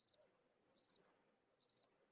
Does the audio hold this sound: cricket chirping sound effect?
yes